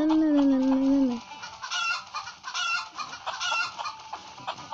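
A chicken in the video game Stick Fight clucks and crows, a short high call followed by a run of cluck-like squawks over game noise and a voice.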